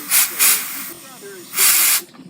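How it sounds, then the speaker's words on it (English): Compressed air blasts through the carburetor of a 45 Johnson outboard motor in three short loud hissing bursts, with a voice speaking briefly between them. "And now we're going to blow this carburetor out."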